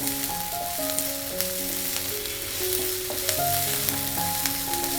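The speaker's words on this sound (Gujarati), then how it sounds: "બધું જ આપણે ગેસની હાઈ ફ્લેમ પર 1 મિનિટ જેવું સોતે કરી લેશું" Spring onion greens sautéed on a high gas flame for veg fried rice, a loud continuous sizzle with a few stirring scrapes, heard alone while music plays underneath.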